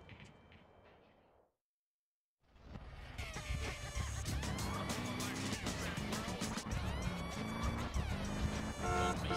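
After a brief quiet gap, a car in GTA San Andreas rolls along in a steady loud engine drone with shifting tones, city traffic and game sounds around it.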